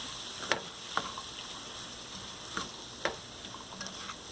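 Vegetables sizzling gently in a pan on a gas stove for a breakfast burrito filling, with a steady low fry broken by a few sharp clicks and stirring taps at irregular intervals, no talking.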